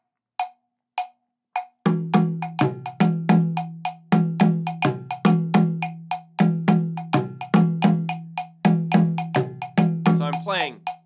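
A syncopated bell pattern played alongside a dundun talking drum: a few lone bell taps, then sharp metallic strikes interlocking with booming, pitch-sliding drum beats in a lively rhythm, close and loud, with a brief voice at the end.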